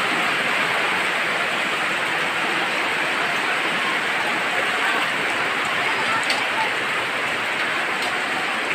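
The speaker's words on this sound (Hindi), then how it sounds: "बहुत ज़्यादा बारिश हो रहा है इधर" Heavy, steady rainfall pours down without a break, a dense hissing wash of drops that stays loud and even throughout.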